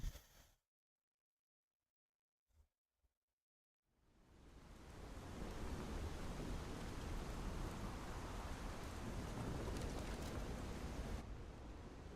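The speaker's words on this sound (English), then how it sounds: "Oh, it's raining." Steady rain falls after a few seconds of near silence and a couple of faint knocks, building into a dense, even hiss that fills the rest of the stretch.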